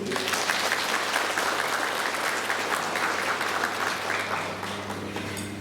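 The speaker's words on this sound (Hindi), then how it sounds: "आप सबके लिए एक बार जोर से तालियां बजाने के लिए" Women in a hall at an International Women's Day gathering clap loudly together, a sustained crowd applause with a low steady hum underneath, tapering off near the close.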